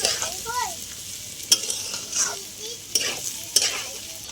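Lentils and rice for bhuna khichuri frying in a pan while a spoon stirs them, a soft steady sizzle punctuated by several sharp scraping clanks of the utensil, close and without talk.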